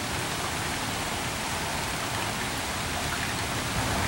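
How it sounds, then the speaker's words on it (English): Steady rain falls outdoors, a continuous even hiss of drops on surfaces, close and fairly loud with no voices, while a covered free-range chicken feeder is being tested in the wet. "it's been literally raining just about all day"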